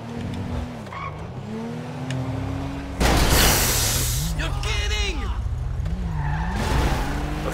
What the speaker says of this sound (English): Just a normal night drive with so much traffic.